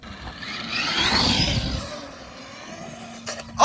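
An Arrma Granite RC truck on giant wheels and tires drives on grass, its electric motor whining close by and then fading a little as it pulls away, with a short sharp noise at the end.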